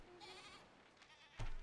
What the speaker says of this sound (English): Lovely goats you have.